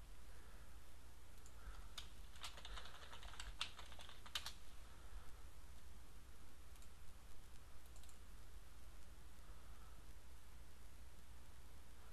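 Keys clatter on a computer keyboard as task names are typed into a stopwatch time-tracking program, a short burst of quick clicks around the two-to-four-second mark and then near quiet with steady low background hum.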